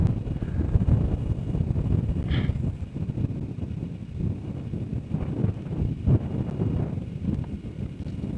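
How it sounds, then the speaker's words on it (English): Strong wind buffets the microphone on a Colorado mountaintop at 12,200 feet, a steady loud low roar with gusty swells throughout and no voices. "I'm gonna get a little shaky, that wind's blowing me."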